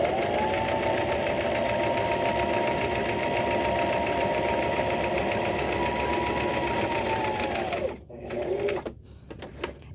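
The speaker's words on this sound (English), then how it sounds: "So now we're going to zigzag down the other side, but you want a space in between those two" A sewing machine zigzag-stitches down the side of a buttonhole, a steady rapid close-up clatter for about eight seconds, then it stops and a few short handling knocks follow.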